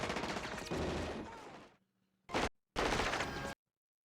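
Rapid bursts of gunfire from a 1987 RoboCop film scene, a long loud clattering volley that cuts out, then a short burst and another sustained stretch of automatic fire.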